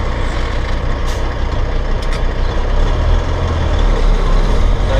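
A 13-speed 8LL dump truck rumbles loud and close with a steady engine drone as it drives and shifts gears, with brief hissy bursts near the start.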